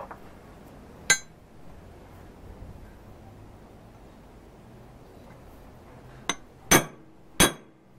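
Heavy punch struck with a hammer on a metal part for a Gingery four-jaw lathe chuck: one sharp metallic clink, a pause, then three more ringing blows in quick succession, close and loud over a quiet workshop background.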